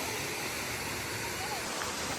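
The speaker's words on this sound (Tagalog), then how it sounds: "So, dyan nabagsak yung tubig pinaggaling doon sa taas kanina." Awosting Falls waterfall pouring from above, heard as a steady, dense rush of falling water that fills the scene without pause, close and constant.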